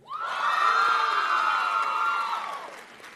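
An audience at a nursing college convocation ceremony cheers and whoops, with shouting voices swelling quickly, holding strong for a couple of seconds, then fading away.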